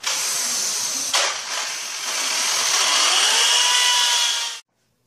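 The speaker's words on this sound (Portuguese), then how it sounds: "Agora com a furadeira eu vou furar para prender a guia no chão." Power drill boring into a floor to anchor a drywall track, a loud, close, continuous high whine with a brief dip near the start, then cutting off abruptly before the end.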